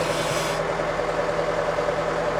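A Scout TE-504S tractor engine revs on the throttle, a steady, loud, close mechanical roar with a constant low hum that stays even throughout, with no talk over it.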